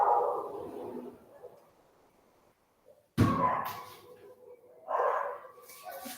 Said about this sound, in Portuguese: tem um cachorro latindo sem parar.